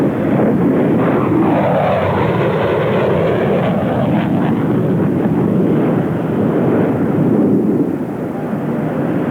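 An RAAF F-111 swing-wing bomber jet flies past at the Australian International Airshow, a loud, sustained roar that swells and sweeps in pitch as it passes, fading slightly near the end.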